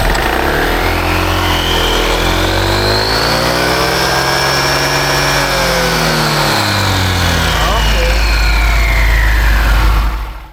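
A Honda ADV 160 scooter engine with an upgraded CVT revs up hard and holds a loud, rising then falling whine for about ten seconds, close by and with no talk over it.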